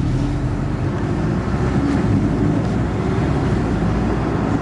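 A Porsche 718 Boxster S with a 2.5-liter flat-four engine runs at a steady, loud, low rumble after start-up, heard close and continuous with no talk.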